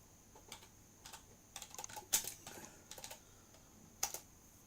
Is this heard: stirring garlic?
no